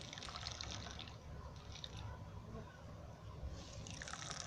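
Water drains out of a knotted cloth bundle of khoa, a steady soft trickle and patter that continues without a break.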